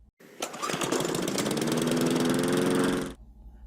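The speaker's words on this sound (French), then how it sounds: "Une tondeuse à gazon peut atteindre 100 décibels lorsque vous vous en approchez." A lawn mower engine roars loudly and close for about three seconds, a dense rattling drone that starts abruptly and cuts off sharply.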